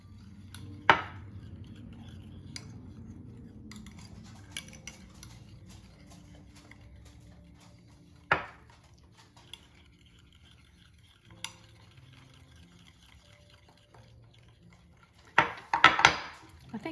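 A spatula works Sicilian S cookie dough in a bowl with soft scraping and stirring, broken by a few sharp clicks and knocks against the bowl, the loudest cluster coming near the end; no one speaks.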